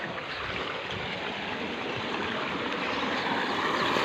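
Water from three running pump motors gushes into a full tank and spills over its rim, a steady broad rushing flow that swells slightly louder toward the end, with no one speaking.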